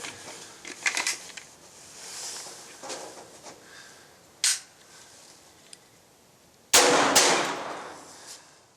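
A Glock fitted with a Tactical Solutions .22 LR conversion fires CCI Mini-Mags outdoors. A few sharp, close shots crack out at uneven intervals, the loudest near the end, with quieter clinks and handling noises between them.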